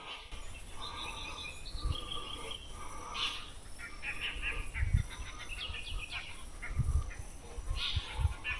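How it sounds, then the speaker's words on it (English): Dollar birds call repeatedly from trees near a fishing spot, harsh chattering notes scattered throughout over an outdoor background, with occasional low thumps close by. "Those birds you can hear are dollar birds."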